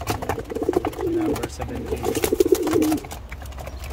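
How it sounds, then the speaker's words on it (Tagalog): Soft, throaty pigeon coos repeating in low rolling phrases, close by, mixed with a person talking. "So ayan yung mga kalapati natin."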